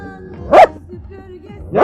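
A man imitates a dog barking with his voice, giving two short, loud barks spaced over a second apart, with quiet background between them.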